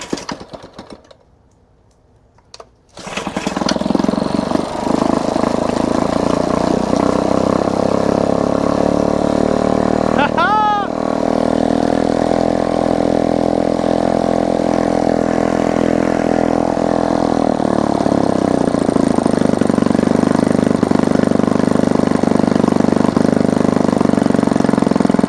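A salvaged outboard motor, rescued from the trash, is started with a little choke. After a brief quiet moment it catches and settles into a loud, steady, close running drone that holds for the rest of the time, with slight shifts in pitch.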